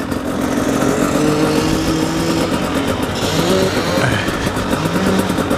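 A dirt bike riding laps at the Porterville off-road vehicle park, its engine droning steadily close by with rising and falling revs and shifting pitch throughout, loud and continuous with wind noise.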